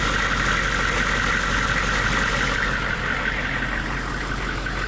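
A 1999 GMC school bus converted into a skoolie idles its engine in a steady, loud, continuous rumble that runs unchanged from start to end, with no talk over it.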